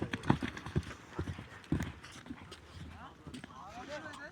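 Horse hooves clip-clop at a kopkari horse game, with irregular thuds near and far and an occasional whinny, heard under someone talking over a loudspeaker-like crowd din.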